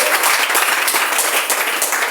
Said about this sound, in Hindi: गुरु माता पिता सुनीता बहन सर के लिए जोरदार ताली होनी चाहिए।